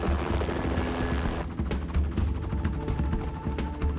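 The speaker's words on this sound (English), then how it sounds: "Bob and Robin will helicopter in to photograph the lava sampling and tread gently." Helicopter flying close over a volcanic lava field, its steady rotor thump and engine roar loud and continuous throughout, with the rotor pulsing more sharply in the second half.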